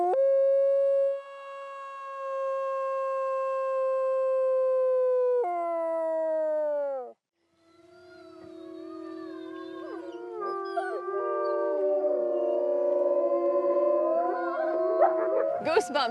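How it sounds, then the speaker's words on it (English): A dog howls in a long, sustained, wolf-like call that wavers and drops, then resumes with overlapping, rising and falling howls building toward the end, loud and close. "Can you show me your howl?"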